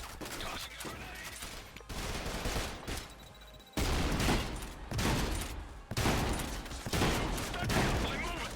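Sustained gunfire from the shooter game Trepang2: dense, loud bursts of automatic fire and volleys that come in waves, with brief pauses between them and bits of a voice mixed in.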